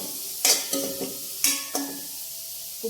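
Spices frying in a pan until the raw smell fades, heard as a few soft stirring scrapes and brief sizzles spaced apart, fairly quiet with no talk.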